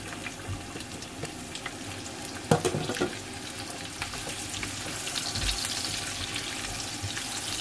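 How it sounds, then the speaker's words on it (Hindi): A large onion fries with cumin seeds in hot oil, giving a constant close sizzle, with a brief clatter of utensils partway through. No talking. "अब मैं इसके अंदर एक लार्ज साइज अनियन ऐड कर दूंगी"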